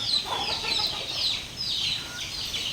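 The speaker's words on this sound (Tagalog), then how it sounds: "Ayan ang sisiw. Dito yung mga sisiw namin." Chicks in a chicken coop give a continuous stream of thin, high-pitched chirps, overlapping and fairly close, over a low background hum.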